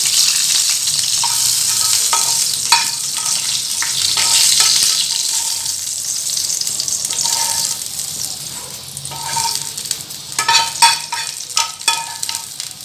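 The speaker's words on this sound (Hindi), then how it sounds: "अब ये देखो हमने इस तरह से इसके ऊपर ये बघार लगा दिया" Cumin tempering (baghar) sizzles loudly after being poured over moong dal dahi bara, a steady bright crackle with sharper spits and pops flaring toward the end.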